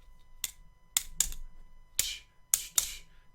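Toy fans clapping give six sharp, isolated snaps in an uneven rhythm, close and crisp against near silence, like small plastic parts slapping together.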